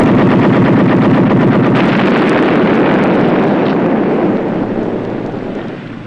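Rapid gunfire from a submarine's deck gun shooting at a floating mine at sea, a dense continuous burst of loud shots over wind and water noise, fading slightly toward the end.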